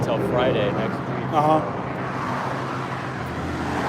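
Steady road traffic noise from passing cars near a steelhead fishing spot, a continuous roar with people talking over it at the start.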